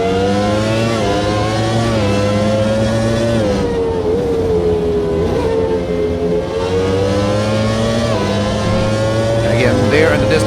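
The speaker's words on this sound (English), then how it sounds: "there in the distance, you could hear the Ferrari driving off" A Ferrari race car in the racing game Automobilista 2 at historic Monza, its engine droning steadily with shifting pitch as it pulls away, loud and continuous under commentary talk.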